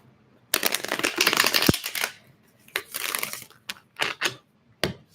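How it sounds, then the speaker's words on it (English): Tarot cards being shuffled during a live baking and tarot session: a long papery riffle followed by several shorter, crisp shuffling bursts with brief pauses between them, close and clear. "I'm going to shuffle these up too so we get the energy moving around a little"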